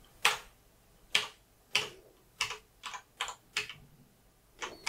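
Keys on a hacked Blackmagic Design Speed Editor keypad clack sharply about nine times in an uneven rhythm, each press a close, crisp click over a quiet room.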